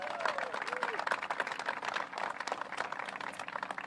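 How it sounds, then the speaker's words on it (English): An audience applauds the Mueller Engineering Company of Lakewood at an engineering and public works event in Golden, Colorado, with dense clapping mixed with crowd murmur and some voices, steady for about four seconds. "Let's give them a round of applause."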